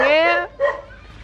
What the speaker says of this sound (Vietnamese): Nghe tiếng chó sủa không?